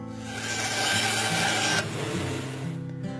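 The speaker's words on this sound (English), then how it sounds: "Fiberglass splinters are nasty, so I knock the edges of the limbs down with the drum sander." A drum sander grinds down the edges of fiberglass bow limbs, a loud close rasping whir that cuts off abruptly partway through as the motor keeps running.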